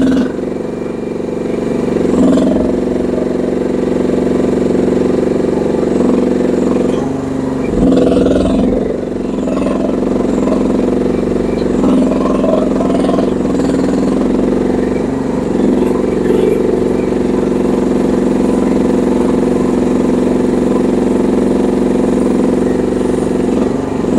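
A GroundHog BH14G Pro mini excavator engine runs with a loud, steady mid-pitched drone that stays constant throughout, with only slight rises and dips in intensity.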